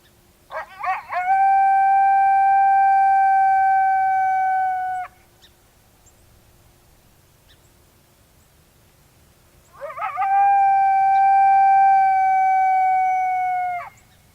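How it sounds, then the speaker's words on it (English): A Lucky Duck Revolt electronic predator call plays a male lone howl twice, each a long, loud, sustained wavering tone lasting several seconds, separated by a quiet gap. "we're just going to do a male lone howl here at level, we'll go level 12 on the Lucky Duck Revolt"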